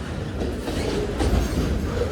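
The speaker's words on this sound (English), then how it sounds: "this train might have a DPU on it" A Union Pacific freight train rolls westbound close by, with a loud, continuous rumble of wheels and cars and some rhythmic rail clatter.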